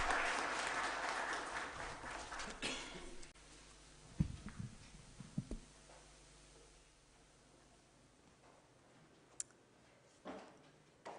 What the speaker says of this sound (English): Can we please give the government and MPC members a round of applause?